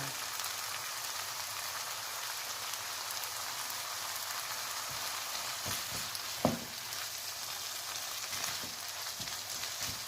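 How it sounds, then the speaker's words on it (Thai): Pork stir-fry with holy basil and beans sizzles steadily in a hot pan, a continuous frying hiss with a brief clatter of stirring partway through, and no voices over it. "เราก็จะใส่ใบกระเพราลงไปเลยค่ะ"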